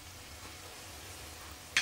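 Balls of yeast dough fry in hot oil, a faint, steady sizzle close by, ending in a sudden sharp clatter.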